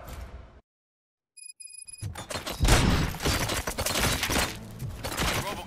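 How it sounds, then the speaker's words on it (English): Gunfire erupts in the video game RoboCop: Rogue City after a moment of dead silence, a dense, loud barrage of rapid shots and impacts rolling on close by. "Gunshots?"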